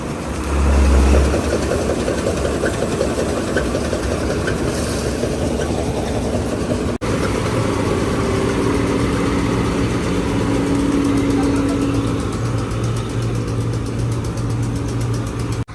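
A harvesting machine's engine runs steadily in a wheat field, a loud continuous droning rumble with a sustained mechanical hum, one brief sharp click partway through, and no talking.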